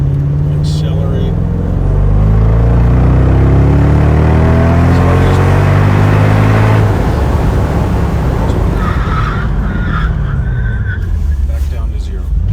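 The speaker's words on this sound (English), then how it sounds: "So we're just going to get on the highway here. And we'll accelerate." A 2004 Mercedes-Benz SL55 accelerating onto a highway, its engine note climbing through the gears in loud rising sweeps before settling into a steady cabin roar of road and wind noise, with a voice now and then over it.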